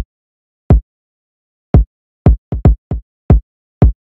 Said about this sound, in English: I started off with this kick.